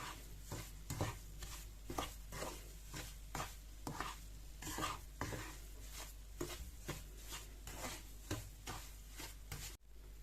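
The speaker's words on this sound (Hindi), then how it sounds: "मूंग की दाल भी बिल्कुल अच्छी सी फ्राई हो चुकी है" Moong dal slowly roasting in a pan on low heat is stirred with a steady, rhythmic scraping of about one stroke per second over a low, faint sizzle, with no voices.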